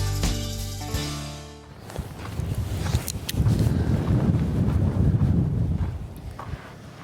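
Strong wind gusts buffet the microphone at a desert campsite near Death Valley, a steady loud rush with broadband rumble after a brief tonal opening, sustained throughout without speech.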